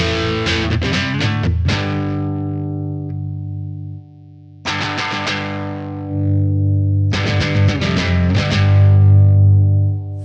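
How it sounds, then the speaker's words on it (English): Electric guitar played through a Marshall amp simulator with the mids scooped and heavy distortion, loud chugging chords and riffs in three bursts separated by short gaps. "let's just do a mid scoop on the Marshall here so we can get a heavier sound."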